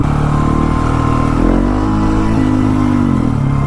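A motorcycle engine revs hard and loud up close in first gear for a power wheelie on a small road behind some complexes, the pitch climbing then dipping and rising again.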